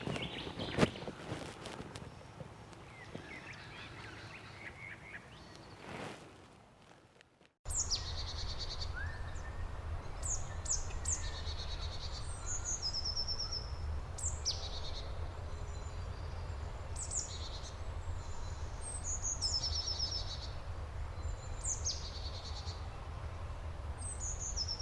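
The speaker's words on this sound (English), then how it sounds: "listen to those beautiful birds" Birds sing along the Wiradjuri walking track, scattered chirps and short whistled phrases over a steady insect hum, after a stretch of rustling footsteps at the start.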